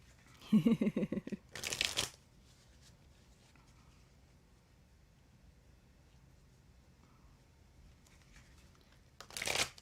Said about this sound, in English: I feel like shuffling is what takes the most time.